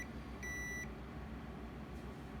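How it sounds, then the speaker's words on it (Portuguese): A multimeter on continuity mode gives one short, steady beep while probing a circuit board, faint against a constant low hum of background noise. "Pode ver que ele bipa de um lado, do outro lado ele bipa e para"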